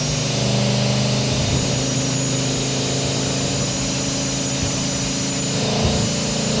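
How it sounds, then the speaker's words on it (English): A loud car motor runs steadily and close by, a constant heavy engine drone with a deep idle-like rumble and no speech over it. "this is a really loud motor"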